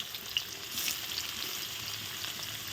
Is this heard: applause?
no